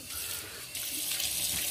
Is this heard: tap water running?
yes